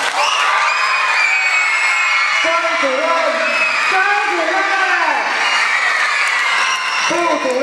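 A ceremony crowd cheers and whoops loudly, with shouts and voices rising over a continuous din as a name is called out repeatedly.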